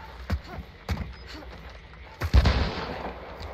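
Gunfire from a video game set at high noon: a few sharp, separated shots ring out at moderate loudness over a low background, with one heavier blast near the end.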